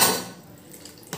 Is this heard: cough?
no